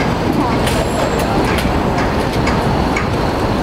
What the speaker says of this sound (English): Sightseeing buses everywhere.